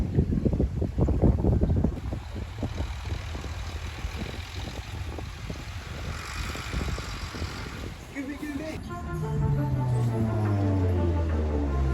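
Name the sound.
service boats on the water near Samal Island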